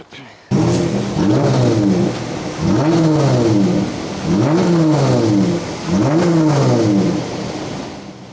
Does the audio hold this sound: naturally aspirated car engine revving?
yes